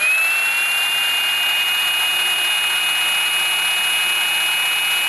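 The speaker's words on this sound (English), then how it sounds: "recently I've been having trouble with this 3/4 inch impact gun" Milwaukee M18 3/4 inch impact gun running with an electronics fault, a steady high-pitched motor whine held loud and unbroken for several seconds, with no hammering or talk.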